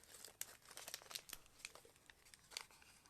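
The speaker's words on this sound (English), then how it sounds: "Get a piece of plastic." A sheet of plastic is crumpled and crinkled by hand during a Yamaha 708 ATV engine overhaul, giving faint, scattered crackling bursts with a few sharper snaps, close to the mic and without talk.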